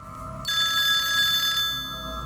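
A telephone ringing sound effect: a bright electronic ring bursts in after a low hum, holds for about a second, then cuts off, leaving the quiet hum again.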